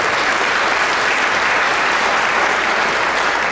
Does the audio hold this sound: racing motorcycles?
no